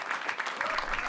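An audience claps at a comedy talent show, fairly faint and steady over about a second, with some speech blended into the applause.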